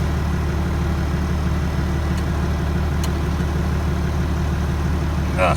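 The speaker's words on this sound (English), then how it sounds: "engage the PTO shaft" Tractor running with its PTO shaft engaged to drive a New Holland 155 manure spreader: a steady, loud, low engine rumble with an even mechanical drone, unchanging throughout.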